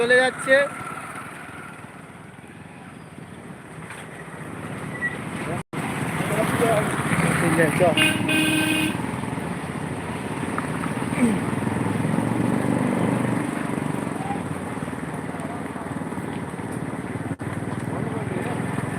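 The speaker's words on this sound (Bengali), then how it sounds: "বাইক র্যালি হচ্ছে একের পর এক একের পর এক গাড়ি যেতে" Motorcycles in a political bike rally on a road, engines droning and revving as they pass one after another at middle distance, with people talking over the steady traffic noise.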